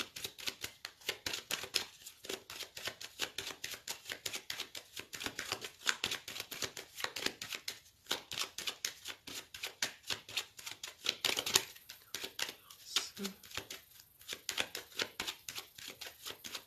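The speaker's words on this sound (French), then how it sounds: "Je vais faire un tirage avec le tarot que j'utilise tous les jours pour les consultations" Tarot cards shuffled by hand for a reading, a steady run of soft riffling slaps and papery flutters repeating close up for the whole stretch, no voices.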